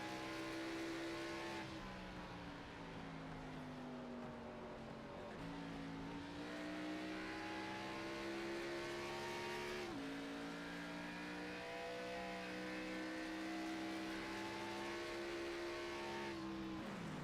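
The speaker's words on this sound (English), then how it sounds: "One thing I never thought I'd ever hear at a race at Phoenix is cars shifting." Next-generation race cars at Phoenix in a simulated Xfinity Series racing game, a steady engine drone climbing in pitch, then dropping sharply at each gear shift, with several distinct shifts heard close up and no voices.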